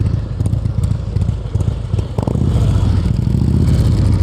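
A motorcycle crawling at low speed through a cone course, a steady low engine rumble with slight revving and some clatter, loud and close throughout.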